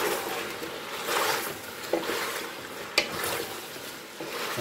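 Onion added to taro frying in a pan, a steady soft sizzle and hiss with a few light clinks and stirring scrapes, fairly close.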